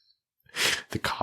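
A single short, harsh cough bursts out close and loud after a brief silence, followed by two quicker explosive follow-up bursts, all alone without talk.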